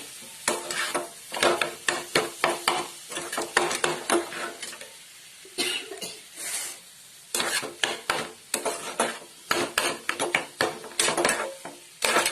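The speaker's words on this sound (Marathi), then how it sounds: "त्याच्यामध्ये बटाटे घालते. आणि व्यवस्थित फ्राय करून घेते." Potatoes frying in a pan for Marathi-style dry batata bhaji, a spatula stirring and scraping in repeated close, sharp bursts over a soft, continuous sizzle.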